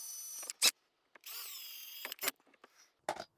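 Milwaukee drill boring pilot holes, several short bursts of high whining motor, one longer steady run in the middle, with clicks and pauses between them at close range.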